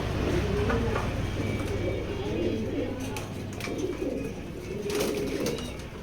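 A racing pigeon hen coos in soft, repeated rolling phrases close by, with a steady low background hum and some faint clatter throughout.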